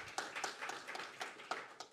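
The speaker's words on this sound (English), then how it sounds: "you should clap for yourselves." An audience at a conference welcome session claps, a brief spread of claps that sounds fairly faint and distant, with no voices.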